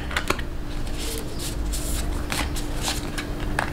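Tarot cards shuffled and drawn by hand, giving soft papery riffling and brisk card flicks in scattered bursts, close, over a steady background hum, with no talking.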